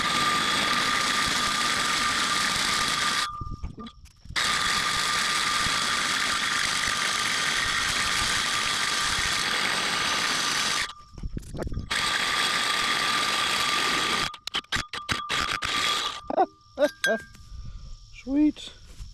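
Cordless drill boring holes for a fence, a steady loud whine running for long stretches, broken by short pauses and a cluster of quick stop-start bursts near the end.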